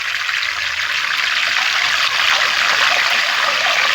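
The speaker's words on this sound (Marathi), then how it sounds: "मिठाचं पाणी टाकून द्यायचं" Salted water splashes into hot oil where thin potato wafers are frying, giving a continuous, loud hissing sizzle with no voices over it.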